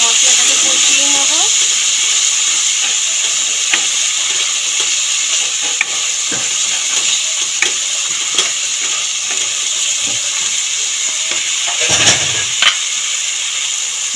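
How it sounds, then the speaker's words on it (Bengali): Spice paste with turmeric and a splash of water sizzles and hisses steadily in a pan, with occasional stirring scrapes and clinks over a loud continuous frying hiss. "ভালো করে মশলাটাকে কষিয়ে নেব।"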